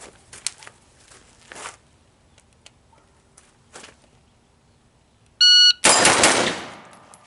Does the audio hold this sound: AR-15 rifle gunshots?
yes